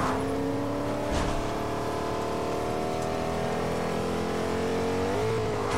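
Car engine revving while driving in Fortnite, a loud continuous engine whine that climbs and holds steady at high revs, with a couple of faint knocks.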